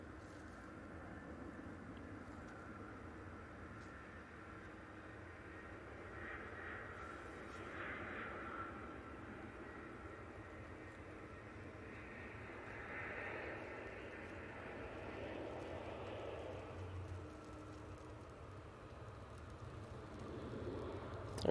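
An EasyJet airliner passing at an airport, a faint, distant broadband engine roar that swells gently and holds steady throughout, with low rumble and no nearby voices.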